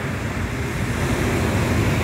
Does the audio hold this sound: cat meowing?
no